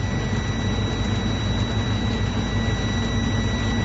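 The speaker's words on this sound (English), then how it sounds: "I'm going to build up my air tanks to turn out the low air warning system." Manual-transmission truck engine running steadily to build air brake tank pressure, giving a loud, unbroken whirring roar with a faint high whine on top.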